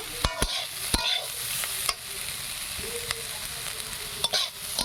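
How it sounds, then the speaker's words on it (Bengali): Potatoes and ivy gourd fry in a pan, with a steady sizzle broken by repeated scraping stirs of a utensil against the pan, close and fairly loud with no talk. "আলু কুন্দ্রিটা ভাজছি"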